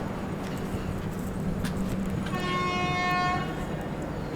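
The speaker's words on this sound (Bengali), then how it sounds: "ওই যে ট্রেন ছেড়েও দিল, হ্যাঁ সিগন্যাল হয়ে গেছে," A train pulls out of Aliya Bada railway station amid steady rumbling platform noise, with a long, clear horn blast sounding in the second half.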